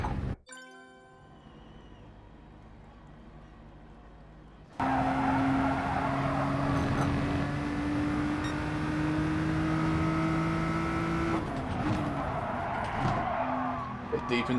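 Nissan GT-R race car in Gran Turismo Sport, a loud steady engine drone with a rising pitch that holds through a long straight, then shifts at a gear change, with some tyre noise and a muffled voice early on.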